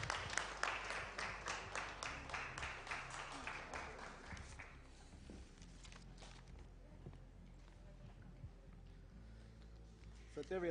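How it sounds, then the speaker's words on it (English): Audience clapping at a shareholders' welcome ceremony rings out clearly for about four seconds, then tapers off as people start talking. "Let's give him a warm round of applause."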